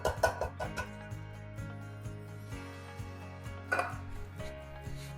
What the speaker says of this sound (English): we're just gonna mix this together